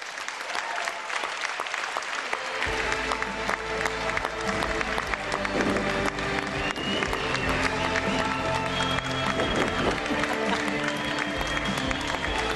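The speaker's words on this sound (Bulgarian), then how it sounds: "Моля да посрещнете с бурни аплодисменти прекрасната и неповторима Ивет" A large audience at a Bulgarian sports-awards gala breaks into sustained, loud applause that swells after a couple of seconds, with music and crowd noise underneath.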